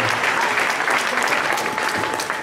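Church congregation applauding during a Sunday service, dense sustained clapping from many hands, close and loud throughout.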